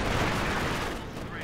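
An SU-76 self-propelled gun fires a shot during a Company of Heroes 2 2v2 battle, heard as a loud, dense burst of gunfire and booming battle noise that fills the whole moment and eases slightly near the end.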